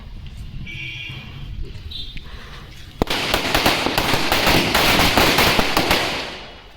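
A sharp crack sets off a loud, dense string of Diwali firecrackers bursting in rapid succession for several seconds before dying away. No voices.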